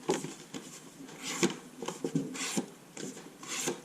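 A knife with a 6000-grit polished edge slicing through folded two-layer cardboard, several short rasping strokes in quick succession, close and moderately loud, with no one talking.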